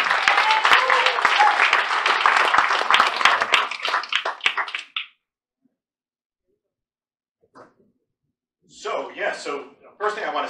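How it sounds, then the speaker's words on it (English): Hearty applause on a low carb cruise welcoming the speaker Fred, dense clapping with a few sharper claps standing out, tapering off into silence before a voice begins talking. "Let's give a round of applause for Fred"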